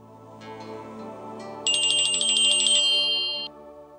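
An electronic phone ringtone starts up, a bright warbling melody ringing loudly for a couple of seconds over a soft musical background, then stops.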